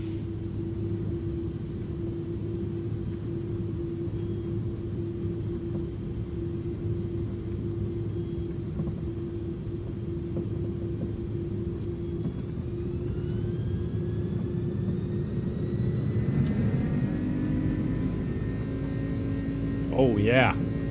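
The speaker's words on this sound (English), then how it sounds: "Takeoff." An iniBuilds A300-600 airliner's takeoff roll in Microsoft Flight Simulator, a steady low engine drone and hum that swells with rising whining tones toward the end.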